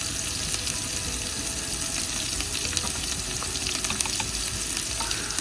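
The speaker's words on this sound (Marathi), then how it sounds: "मसाले छान तेलात परतवून घेऊया" Spices frying in oil for biryani sizzle and crackle steadily in a pan, with occasional stirring scrapes and no talk.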